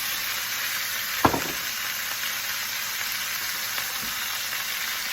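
Carrots, onions and bay leaves dropped into a hot pot for a Moroccan-style pot roast, with one sharp clatter followed by a steady, close frying sizzle.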